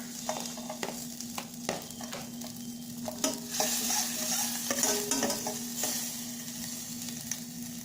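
Garlic and green chillies frying in butter in a pan for mixed vegetable soup, a soft steady sizzle with frequent sharp scrapes and taps of a stirring spoon, close up.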